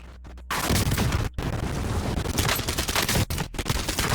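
Rapid bursts of gunfire from a gun in the Warzone video game crack loudly and close, with short pauses breaking up the sustained volleys and heavy booming impacts between them.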